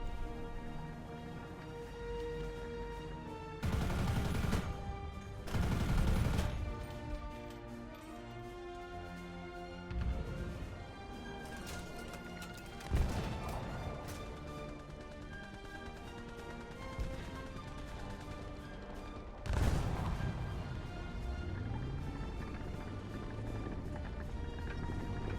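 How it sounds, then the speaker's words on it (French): Heavy bursts of gunfire from the War Thunder video game, with a few thick, loud volleys standing out over a constant droning engine hum and scattered smaller impacts. "Je l'ai eu à la mitrailleuse, faut le noter."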